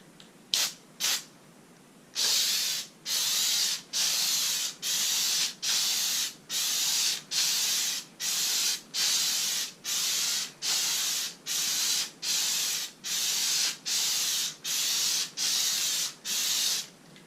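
Spray adhesive being applied in short bursts to a Nissan 240SX car door panel during reupholstering: about eighteen steady hissing sprays, each lasting around half a second, in a regular rhythm, close and fairly loud with no talk.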